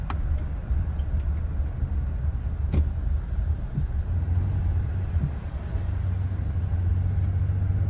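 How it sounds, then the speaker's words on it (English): A 2008 Ford Expedition SUV drives on the road between Haverhill and Methuen, giving a steady low engine and road rumble heard from inside the cabin, with no one speaking and only a few faint clicks. "test driving 2008 Ford Expedition, which is Belmore 43"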